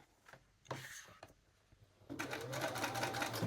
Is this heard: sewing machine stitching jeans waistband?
yes